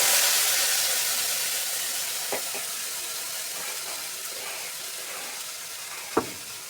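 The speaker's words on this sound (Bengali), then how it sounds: "মশলাটা একটু লাল লাল করে ভেজে নেবো" Masala gravy frying in oil in a pan for a Bihari-style tilapia fish curry, giving a steady soft sizzle with a couple of sharper crackles or utensil taps near the end.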